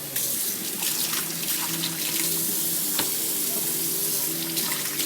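Sausages, peppers and onions browning in a frying pan give a steady, hissing sizzle that runs without a break, close by and fairly even in loudness, with faint clinks now and then.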